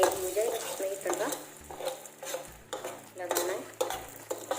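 Utensil stirring masala Maggi noodles with a red chilli powder tadka in a pan at home, soft scraping and clinking strokes repeating in an uneven rhythm with faint sizzle underneath, close and moderately loud.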